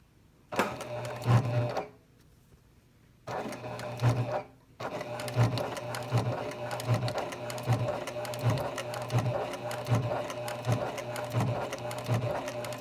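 A Janome HD9 heavy-duty sewing machine stitching leather runs in rapid rhythmic bursts, pausing briefly twice before stitching steadily, close and mechanical.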